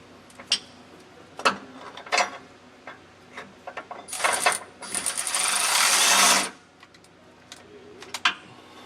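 A ratchet wrench clicks in short bursts, then spins in one long rapid run, tightening spring mounting nuts on the frame of a 2013 Fleetwood Bounder RV, close and loud with no talk.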